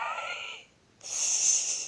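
A voice imitates a small bear's snoring with two high, squeaky breaths, a thin wheezy inhale, a brief pause, then a sharper, higher squeak.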